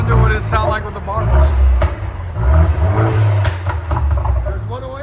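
Engine of a 2014 BMW 228i with a 2.0L turbo, downpipes and Dynomax Race Bullets dual exhaust revs in deep, rumbling surges, close and loud, while someone talks over it.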